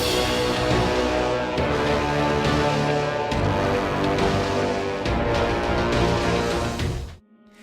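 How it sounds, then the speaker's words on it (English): Video game raid music from Destiny: The Taken King carrying a four-note bass motif, a dense, loud orchestral texture with heavy low end and pulsing chords, ending in a fade to near silence. "It's a 4-note bass melody, and it sort of pivots around the root of the first chord."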